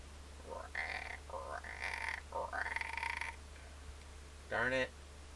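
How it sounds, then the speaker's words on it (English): A frog croaks in the video game Wizardry Tale of the Forsaken Land, a few faint rising calls followed by one louder, buzzing croak near the end over a low steady hum. "Sure would be awesome if that froggy were to call other froggies."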